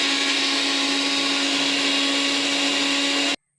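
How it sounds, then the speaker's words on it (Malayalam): A mixer grinder blends a jackfruit seed shake with ice, a loud steady motor whir running continuously for a few seconds before cutting off abruptly. "ഇപ്പോൾ നമുക്ക് ഇത് മിക്സിയിലിട്ട് അടിച്ചെടുക്കാം"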